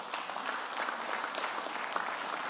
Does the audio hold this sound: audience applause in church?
yes